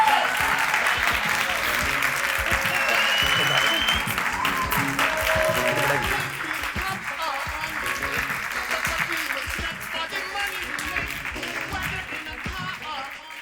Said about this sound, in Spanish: Un fuerte aplauso para Andrea del Río.